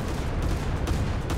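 Rapid naval anti-aircraft gunfire from a destroyer's AA guns in War Thunder, a dense steady rattle of overlapping shots at close range with no pauses, loud throughout.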